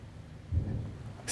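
Thunder from an outdoor storm rolls in as a low, muffled rumble that swells briefly and fades, faint and distant against quiet room noise.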